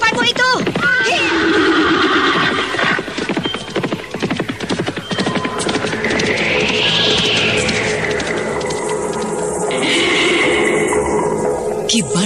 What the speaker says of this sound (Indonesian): Ayo Tunggul, kejar kuda di depanmu itu.